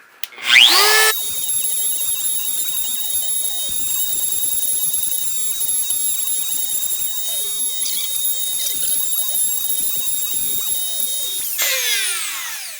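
A CNC router bit, normally meant for plexiglass and plastic, cutting through wood: a loud, steady high-pitched whine with a grinding cut beneath it, running nearly the full length after a brief spin-up and ending with a spin-down.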